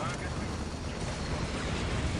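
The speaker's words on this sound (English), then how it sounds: "A huge explosion about to happen on these guys." A huge explosion in Dawn of War Unification during a 4 vs 4 match: a loud, sustained roaring rumble that fills the whole stretch without letting up.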